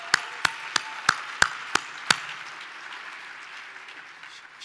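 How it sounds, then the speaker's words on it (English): At an awards ceremony, a series of about seven sharp, evenly spaced claps rings out in a reverberant hall, then stops and leaves a fading room tail with faint background murmur. "Let's give her a round of applause for that."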